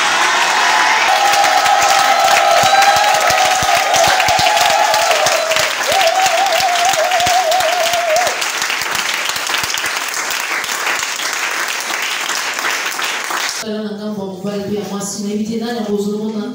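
A church congregation at a Sunday service applauds and cheers continuously, loud and sustained, fading slightly toward the end as other sound takes over.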